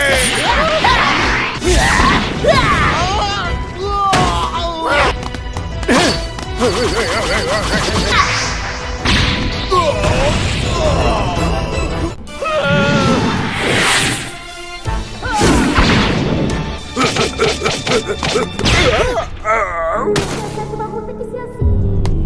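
Hindi-dubbed anime fight: a rapid, loud barrage of punches, smashes, crashes and whooshes, with impacts clustered in bursts and short pauses between, alongside shouting voices and music.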